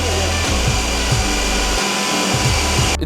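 A Ninja Creami ice cream machine respins a batch of slightly overworked Oreo-flavored ice cream, giving a loud steady motor whine and whir with a low rumbling churn that pulses. It runs unbroken, with no talk, and cuts off abruptly near the end.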